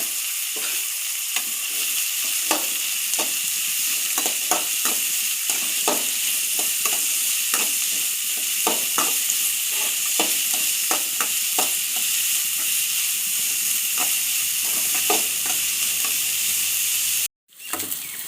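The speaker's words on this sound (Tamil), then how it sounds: "வெங்காயத்தை நல்லா வதக்கி விடுங்க பொன்னிறமாக வதங்கட்டும்" Onions sautéing in a pan until golden for a pepper chicken curry: a loud, continuous hissing sizzle with regular spatula strokes scraping through it, close by, cutting off briefly near the end. No talking.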